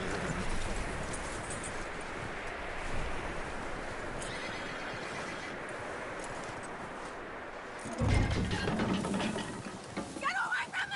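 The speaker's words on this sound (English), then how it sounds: "That looks like a decent horse." Horse sounds in a Wild West action video game: a horse whinnies and snorts over a busy ambient bed, with hooves clip-clopping faintly near the end and brief talk in the background.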